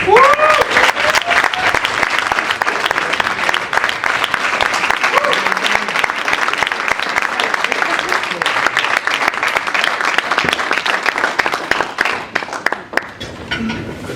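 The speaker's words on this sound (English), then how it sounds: "Please, a warm round of applause." At a Model UN closing ceremony, an audience gives sustained, enthusiastic applause as a project manager is called to the stage, with cheers and brief vocal sounds in the mix, easing slightly near the end.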